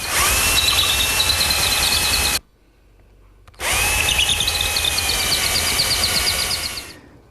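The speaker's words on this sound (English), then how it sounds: "I just clamp it in place and drill the holes." A power drill bores holes through a clamped hardwood jig in two loud, close bursts of high whining and cutting, separated by a short pause, with the second run longer and winding down at the end.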